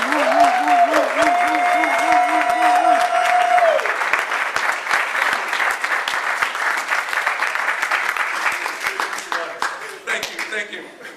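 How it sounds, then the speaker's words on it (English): Crowd applause for a speaker at an event at the Pasadena Hilton, dense and steady, with a host talking over it and a brief musical tone early on before the clapping fades. "I want you to stand up and give him a round of applause."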